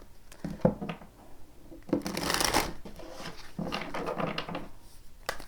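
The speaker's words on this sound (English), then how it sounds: "Just like to get a really good shuffle here for you." Tarot cards are shuffled by hand in several bursts of riffling and sliding, close and moderately loud, with brief pauses between the shuffles and no talking.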